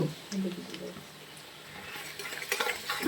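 Chicken being stirred in a pan with salt and turmeric while it cooks, with brief scraping and clinking of a utensil against the pan under a soft background sizzle.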